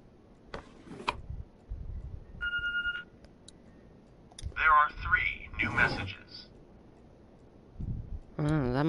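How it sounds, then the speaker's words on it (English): A phone rings inside a ransacked house in Telltale's The Walking Dead video game, with short electronic ring bursts between stretches of spoken dialogue and a few sharp clicks. "That must be a phone"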